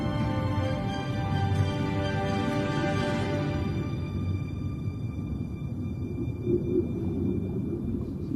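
A humpback whale sings underwater, a long, loud, wavering moan with rich harmonics that swells and then fades into a low, steady rumble.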